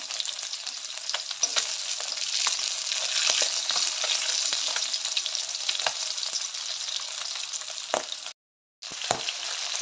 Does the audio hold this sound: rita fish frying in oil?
yes